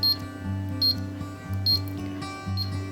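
A cooker timer is set to two hours on high, giving short electronic beeps at steady intervals over a low, continuous appliance hum, close and fairly quiet.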